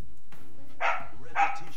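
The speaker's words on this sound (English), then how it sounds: "Hey, dogs, chill!" Two sharp dog barks close by, spaced about half a second apart after a quiet start, loud and clear over a faint background.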